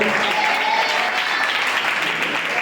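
A congregation at a Sunday worship service claps in praise, a steady, fairly loud wash of applause that runs evenly throughout with no break.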